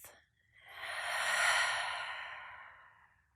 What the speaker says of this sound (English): filling your lungs right the way up and letting it go.